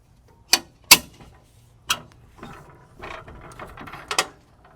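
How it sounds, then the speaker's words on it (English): An Allen wrench cranks the anti-wobble mechanism on a heavy-duty two-tray bike rack, giving a few sharp, close metallic clicks and ratcheting rasps, spaced irregularly. "So you're just going to put that in and crank that until it stops, and it'll take the wobble."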